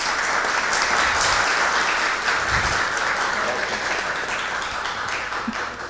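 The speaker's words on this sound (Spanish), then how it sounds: "yo quiero pedir un fuerte aplauso" Strong, sustained applause fills a book launch event for the publication of a written work, with dense clapping holding steady at a fairly loud level throughout and no speech over it.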